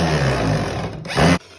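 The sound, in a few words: power drill driving in a screw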